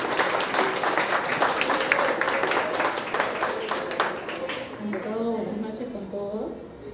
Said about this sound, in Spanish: Venga, el aplauso para ella